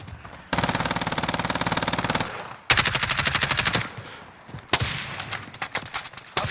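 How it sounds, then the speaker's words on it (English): Call of Duty gameplay gunfire: sustained automatic bursts rattle loudly in several long volleys, broken by short gaps and a few sharp single shots, with no talk over them. "Oh, getting shot from the left."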